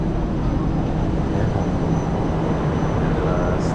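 An underground LRT train running at Merdeka station in Malaysia, a steady low rumble and rushing roar that fills the space without a break.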